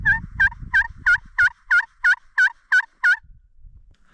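A hand-made turkey call imitates a female turkey's yelps on a backcountry ridge in Washington, a steady series of ten loud, evenly spaced clucking yelps over faint rustling.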